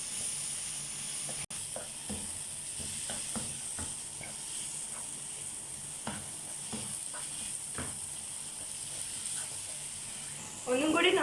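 Sausage with green peas and masala powder stir-frying in a pan, a soft steady sizzle with light intermittent scraping stirs, fairly quiet, and a brighter surge of frying at the very end.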